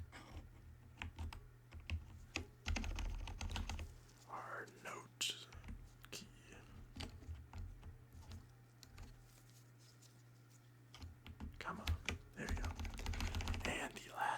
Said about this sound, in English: that was cleaning my keyboard